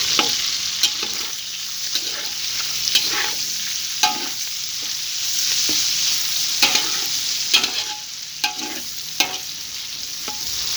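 Pork fat fries in oil for crispy pork rinds, a continuous bubbling sizzle broken by repeated scraping and clinking stirs at an irregular pace.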